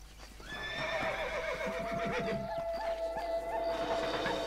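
Horse in the Red Dead Redemption video game giving a long, loud neigh and whinny over the clatter of hooves, heard close with no voices.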